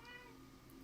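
A single short cat meow, faint and brief, with no other sounds around it.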